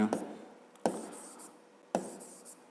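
A pen writes an answer by hand on paper in a math exercise, three short close scratchy bursts each starting with a tap, with no voice.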